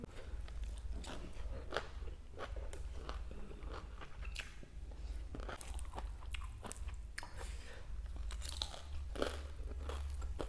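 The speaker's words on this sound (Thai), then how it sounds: "กรอบเข้ามาก" Crispy fried fish eaten with papaya salad and sticky rice gives steady, close crunching and chewing throughout, with crackly bites repeating over a low rumble and no talk.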